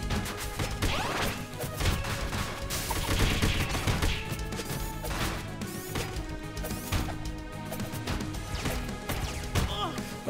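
Rapid crashes and impacts of gunfire and combat in the Teenage Mutant Ninja Turtles game, with Usagi Yojimbo and Karai content, dense and continuous for the whole stretch at steady loudness.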